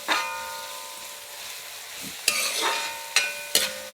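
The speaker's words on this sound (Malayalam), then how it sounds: "ഒന്ന് വറുത്തെടുത്ത് മാറ്റാം." Sliced onions fry loudly in hot oil for a chicken curry, a bright, close sizzle punctuated by several sharp scraping stirs of a spatula against the pan.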